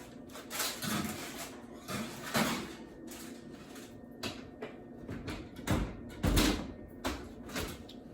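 In a home kitchen, an oven door and tray make a series of soft clunks and knocks at an irregular pace, faint and close.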